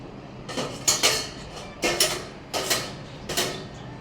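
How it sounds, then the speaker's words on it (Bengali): A spoon stirs homemade tomato sauce in a pot, making about six close, rhythmic scraping clinks spaced roughly half a second apart, with no talking. "এখন দেখেন একটু চামচ দিয়ে এটা একটু লাড়িয়ে দিল, যাতে মানে একসাথে ওটা মিশে যায়।"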